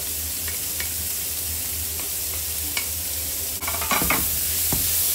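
Onions sizzle and sauté in a modest amount of hot oil in a pan, a steady close frying hiss with scattered crackles and soft stirring clicks, nearly free of talk.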